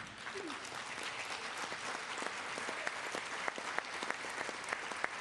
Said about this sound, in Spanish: claro que merece un aplauso